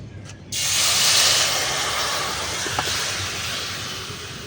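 Sugared raw mango pieces with salt and vinegar tipped into a hot pan, setting off a sudden loud, steady hiss that holds and slowly eases.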